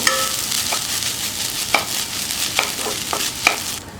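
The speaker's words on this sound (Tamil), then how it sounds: "தேங்காவை ஒரு 2லேருந்து 3 நிமிஷம் நல்லா நம்ம வதக்கணும்." Ground coconut sautés in ghee for coconut laddu, a soft steady frying hiss punctuated by repeated crisp taps and scrapes of a spoon stirring against the pan, heard up close.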